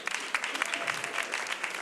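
A crowd at a comedy show claps in quick, uneven bursts, lively and close, with a voice faintly present underneath.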